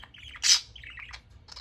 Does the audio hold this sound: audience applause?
no